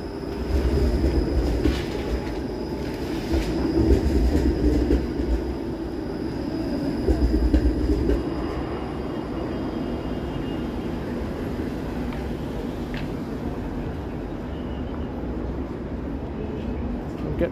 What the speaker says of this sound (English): There's the Dundas streetcar.